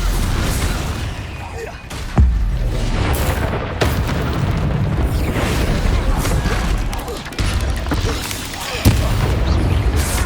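Repeated explosive spell blasts boom through a Hogwarts Legacy dragon battle, heavy low rumbles and bursts layered densely under continuous shouting voices and game noise for the whole stretch.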